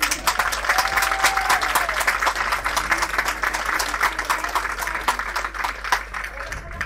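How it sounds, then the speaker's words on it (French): A crowd at a pétanque championship gives a sustained round of applause for player Dylan Rocher, thick continuous clapping that stays loud throughout, with a voice talking faintly underneath. "un tonnerre d'applaudissements pour Dylan Rocher"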